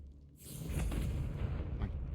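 Confringo spell blast in Hogwarts Legacy, a rumbling fiery eruption that swells in after a quiet start and roars on, low and heavy, alone without talk.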